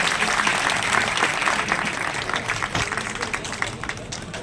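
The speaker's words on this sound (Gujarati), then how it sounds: "કરશો ખૂબ તાળીઓ સાથે ડીડો સાહેબ" Hands clap steadily as a crowd welcomes a former cabinet minister to the stage at a Gujarat teachers' federation event in Gandhinagar, a close, dense burst of applause that tapers slightly by the end.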